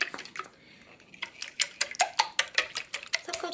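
Egg yolks being beaten with white sugar in a bowl, a quick series of sharp clinking whisk strokes against the side that speeds into a steady rhythm, close and fairly quiet.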